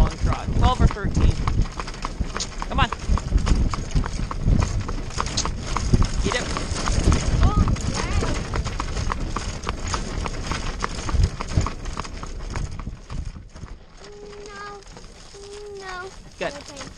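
A horse in a long trot pulls a buggy through town and along a highway, its hooves clip-clopping in a fast, steady rhythm close by, with road and wheel noise and people talking over it.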